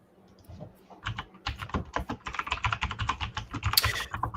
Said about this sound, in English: It is a mechanical keyboard. It's a Black Widow chroma.